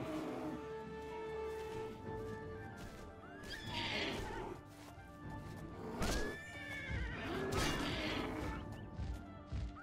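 A horse in the video game Oblivion neighs in several loud, shrill whinnies, mixed with hoof clip-clops and sharp combat crashes and thwacks.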